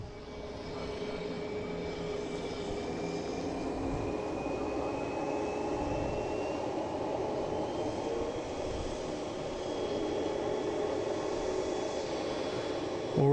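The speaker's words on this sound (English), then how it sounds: "So as American's going to go down, it's going to take a left onto 4 and taxi down there." An American Airlines jet taxis at Boston Logan airport, heard as a steady, moderately loud engine roar with a faint rising whine, continuous and without talk throughout.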